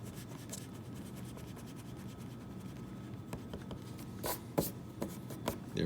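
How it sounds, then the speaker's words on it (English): Soft rubbing and scratching of an eraser wiping marker off a whiteboard, repeated back-and-forth strokes close by at low volume, with a few sharper squeaky swipes near the end; no talking. "Let me erase my other stuff from the previous axis of rotation."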